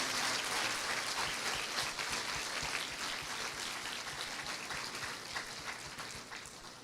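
A congregation claps for the Lord during a Spanish-language church service, steady dense applause filling the room for several seconds, slowly easing off toward the end.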